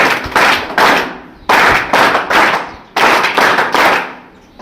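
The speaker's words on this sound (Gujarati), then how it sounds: "ડૉક્ટર સાહેબનું આપણે 3 તાળીઓથી સન્માન કર્યું" An audience at a school event honouring a community health centre doctor claps in unison, three crisp rounds of loud rhythmic hand claps, each a quick cluster of strikes, with no voices over it.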